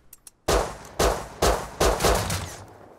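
AK rifle fire in the survival video game Rust: loud, close bursts recurring roughly every half second after a brief run of faint clicks, each burst followed by a short decaying echo.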